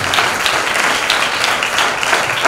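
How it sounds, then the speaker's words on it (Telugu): Congregation at a church thanksgiving prayer meeting clapping together, loud, close and continuous, with many hands forming a dense, even roar. "అందరూ కూడా చప్పులు కొడుతూ కూర్చున్నాం"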